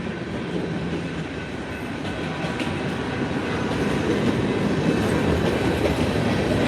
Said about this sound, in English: Yeah, the train's passing by.